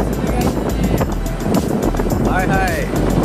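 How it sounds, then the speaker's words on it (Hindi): Strong wind buffets the microphone in a loud, steady low rumble throughout an outing at Abheda Mahal, with a faint engine-like hum and the odd voice in the background. "क्या हवा चल रही है"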